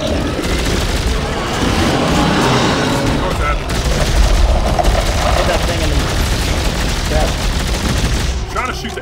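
Dense, loud gunfire from the video game Dead Space rattles almost nonstop, with heavy booming shots layered over one another and barely any pause.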